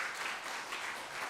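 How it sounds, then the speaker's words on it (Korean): Applause from a church congregation at a Sunday worship service at Oakland United Methodist Church welcoming a visitor, a steady broad wash of many hands clapping together throughout, fairly close and even, with no talking over it. "한번 일어나 주시면 박수로 환영하겠습니다."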